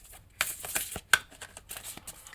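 Tarot cards shuffled by hand, a run of soft papery riffles and slaps with one sharper snap partway through, close and fairly quiet with no talking.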